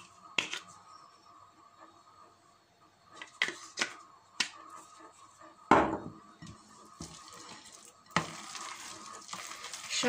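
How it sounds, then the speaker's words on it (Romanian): A spoon works through a cow's cheese and kapia pepper filling in a bowl, making soft, intermittent scrapes and taps with quiet pauses between strokes. "Și amestec ca să intre ardei în compoziție uniform"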